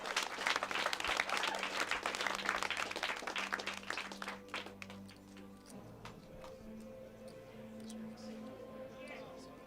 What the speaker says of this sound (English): Let's give a big round of applause for all these 9 players